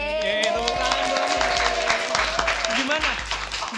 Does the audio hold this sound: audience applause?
yes